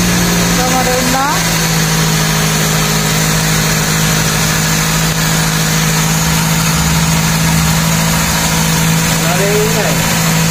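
A Toyota Corolla Altis engine idles noisily on a cold start, a steady loud drone with constant hum that runs throughout, while a person briefly talks over it near the start and end.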